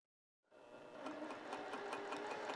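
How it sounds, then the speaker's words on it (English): A sewing machine starts up and runs at a steady fast whir with rapid stitching pulses. It is stitching piping onto lounge pants, heard close and quiet with no talking. "I'm just sewing on the piping."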